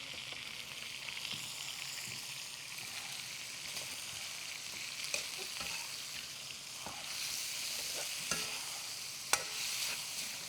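Carrots and zucchini stir-fry in a pan with a chicken dish, giving a constant close sizzle and crackle, with occasional sharp clacks of a utensil against the pan.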